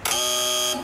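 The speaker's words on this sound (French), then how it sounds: "Donc préparez-vous à buzzer." A quiz-show buzzer on a farm-themed game stage sounds once, a loud steady electronic tone held for nearly a second before cutting off.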